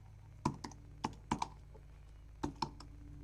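Keys on a computer keyboard click in a few short, uneven bursts, soft and close, over a low steady background hum.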